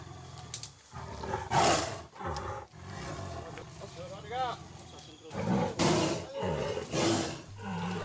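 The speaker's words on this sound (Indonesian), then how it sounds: "Sudarlun harimau suro yang belum lama ini masuk perangkap BKSDA Aceh akhirnya dibawa ke Barumun Nagari Wildlife Sanctuary" A wild Sumatran tiger caught in a trap in Aceh Singkil and being moved to a wildlife sanctuary roars and growls loudly up close in repeated bursts, with people talking in between.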